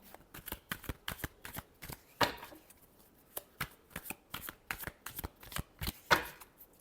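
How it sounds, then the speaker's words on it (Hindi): Tarot cards being shuffled by hand, a quick series of crisp riffling flicks and slaps in an irregular rhythm, close and fairly faint, with no speech. "Last shuffle."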